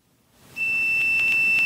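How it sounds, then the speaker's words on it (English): A multimeter continuity tester beeps while probing brown wires on an arcade game's wiring harness: after a short quiet start, a single high, steady electronic tone sounds and holds clearly with no talking. "I've got continuity on one side. I hear it beeping"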